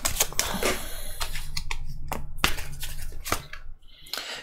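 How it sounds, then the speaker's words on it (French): A tarot card drawn from a deck during a reading: quick, close, papery clicks and flutters of cards being shuffled and pulled, in a rapid irregular run. "On va tirer une dernière carte."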